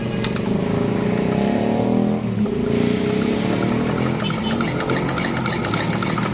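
A motorcycle engine, during oil pump fitting, is kick-started and runs with a continuous loud, close mechanical clatter and rumble, with a brief dip partway through.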